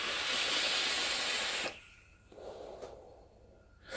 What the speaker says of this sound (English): Let me have a quick vape.